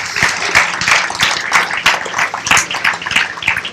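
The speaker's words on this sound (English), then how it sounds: "Give them a round of applause for me" Graduation audience applauding the graduates' families, a dense crowd of clapping hands that stays loud and steady without a break.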